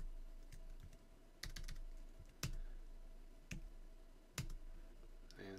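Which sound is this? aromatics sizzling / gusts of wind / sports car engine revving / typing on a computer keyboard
typing on a computer keyboard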